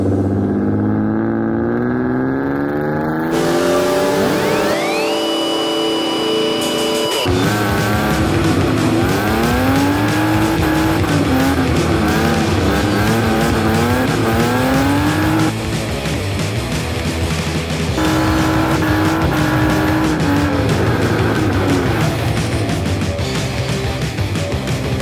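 A cheap, battered car being drifted hard revs its engine loud and close, the pitch sweeping up and down as it accelerates, with tire squeal through the slides and no talk over it.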